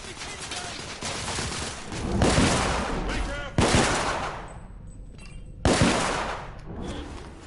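Rapid bursts of gunfire from a Victorian-era third-person shooter, The Order: 1886 on PS4 Pro, with sustained automatic fire and several sharp, loud blasts layered over game ambience and occasional speech.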